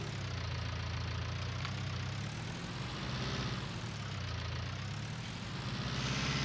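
Continuous tractor engine idling in Farming Simulator 19, a steady, loud drone with a low rumbling hum that holds throughout with no speech.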